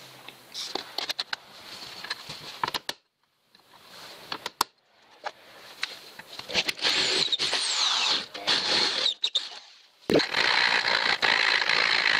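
A power drill boring round holes in a plastic part during a Land Rover Discovery restoration, heard as bursts of close, loud whining drill noise separated by brief pauses and handling clatter.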